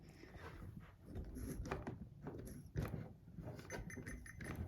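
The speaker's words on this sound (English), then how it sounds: "if I start pumping up the vacuum" A hand vacuum pump is worked on a turbo kit setup for a ninth-generation Civic Si, giving quiet repeated mechanical strokes and ratcheting clicks in an uneven rhythm, with no voices.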